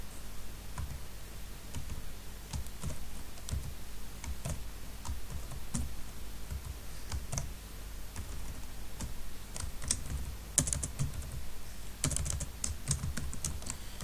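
Fast, continuous typing on a computer keyboard entering a text paragraph, dense irregular key clicks and clatter with occasional louder taps, close and alone without talk.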